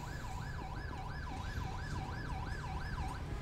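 Ambulance siren in the LSPDFR police game, a continuous wailing tone rising and falling in steady cycles, fairly faint over a low rumble of road noise, with no talk.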